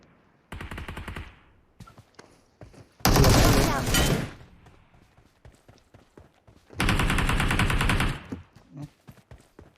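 Bursts of rapid automatic gunfire from a video game, loud and close, in three separate volleys with short pauses and quieter clatter between them.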